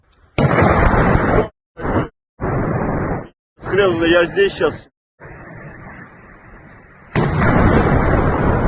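A series of loud, booming explosions from a missile strike in Russia go off in bursts, about ten in under three minutes, distorting the recording, while someone speaks briefly between them.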